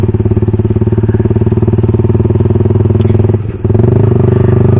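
A motorcycle exhaust (knalpot) idles with a muffler fitted, a loud, steady throbbing putter that briefly dips near the end before picking back up, with no talking.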